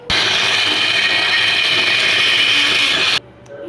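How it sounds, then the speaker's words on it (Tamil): A mixer grinder whirs steadily and loudly for about three seconds as it grinds ginger, coriander, green chili, cumin and fennel, then cuts off abruptly into quiet. "இஞ்சி கொஞ்சம், கொத்தமல்லி, ஒரு பச்சை மிளகா எல்லாத்தையும் சேர்த்து மிக்சியில் அரைச்சி எடுத்துக்கோங்க"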